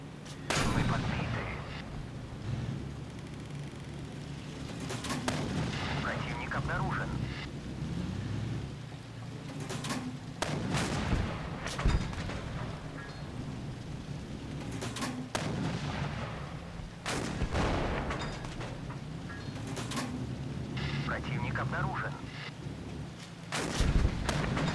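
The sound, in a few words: gunfire in a video game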